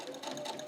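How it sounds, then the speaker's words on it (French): A sewing machine runs steadily, a fast even whirring rattle that stays close and moderately loud through the whole brief moment with no pauses. "Mais Minette, tu veux coudre?"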